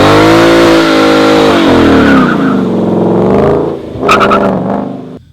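A 2015 Ford Mustang GT, modified, holds a loud sustained engine roar with harmonic revving as its tires squeal during a line lock burnout, rising and shifting pitch before a sharp burst of tire screech near the end.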